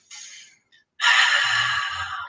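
Slow breaths drawn through the nostrils during a calming exercise for panic and anxiety: a short soft intake, a pause, then a longer, louder, steady airy breath held for about a second and a half, close and alone.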